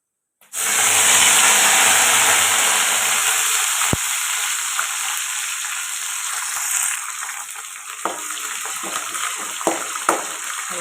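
Coriander and curry leaves hit hot oil in a pan for pirandai thuvayal, setting off a loud, continuous sizzle with scattered small pops and crackles throughout.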